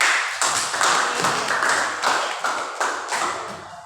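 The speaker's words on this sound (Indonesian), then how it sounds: "Tepuk tangan dulu untuk kita." A crowd claps in a rapid, steady burst of applause that continues throughout, fairly loud and close.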